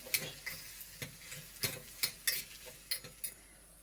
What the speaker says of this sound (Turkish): Şöyle bir karıştırıyorum ve içerisine patateslerini ekliyorum. Hafiften karıştırıyorum.